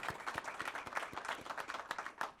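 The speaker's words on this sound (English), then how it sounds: "if we can give them a round of applause for their support and coming out here" Audience at a city council meeting applauding a group of carpenters, a brief burst of brisk, irregular hand claps from a modest crowd, fairly faint and distant.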